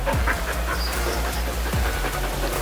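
Two dogs on a leash panting in quick, steady rhythmic breaths, close and moderately loud, with no talking.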